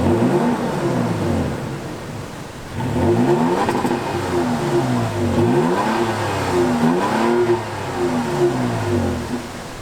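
The 3.5-liter V6 exhaust of a 2016 Toyota Tacoma pickup revs repeatedly, rising in several swelling sweeps and falling back between them, loud and close, with no talking.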